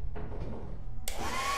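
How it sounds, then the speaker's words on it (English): Hair dryer item switched on in the video game Lethal Company, a loud steady blowing whir that jumps to a harsher, brighter roar partway through, running alone. "The hair dryer, does it work?"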